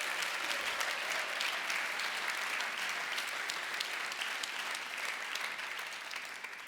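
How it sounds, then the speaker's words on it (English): A large audience applauds award recipients at a ceremony, sustained dense clapping with individual sharp claps standing out, steady and loud for several seconds before easing slightly at the end. "So please, a big round of applause to them."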